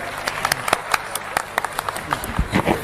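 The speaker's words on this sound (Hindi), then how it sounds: "एक बार जोरदार तालियों से स्वागत करें।" An audience applauds to welcome a guest speaker at a CSC business event, with a burst of close, dense clapping that rises and falls over a few seconds.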